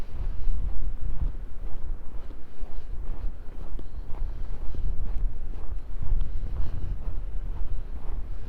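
Wind buffets the microphone on a January walk around Wascana Lake in Regina, a steady low rumbling roar that runs unbroken throughout with no voices.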